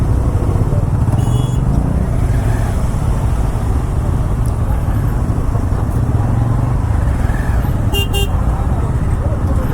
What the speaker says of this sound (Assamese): জাম কিহৰ কাৰণে লাগি আছে ইমান